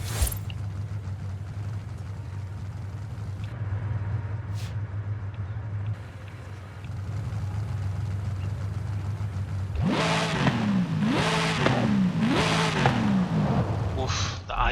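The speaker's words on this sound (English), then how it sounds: "my favorite thing about it is the idle in this engine" A Dodge Charger Hellcat in Forza Horizon 5 idles with a deep, steady rumble for most of the stretch, then revs up in several sharp rising bursts near the end; a voice speaks briefly over it.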